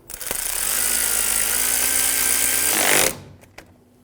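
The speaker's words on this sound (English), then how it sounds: "Install the bolt and snug it down." A power tool whirs loudly for about three seconds while tightening the brake hose union bolt on a 2003-2008 Honda Pilot, then stops abruptly, leaving a faint click and quiet.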